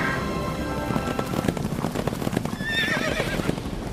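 Ornate horses drawing a royal chariot whinny over a steady clatter of hooves and rolling wheels, loud and close, with a rising neigh near the end and no speech.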